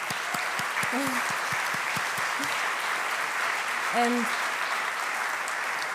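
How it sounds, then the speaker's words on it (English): An audience applauds Robert, a Roma artist, after he presents a work of art; steady clapping fills the room at moderate level while a voice or two sounds briefly above it. "I would like to have an applause for Robert for giving us this amazing work of art."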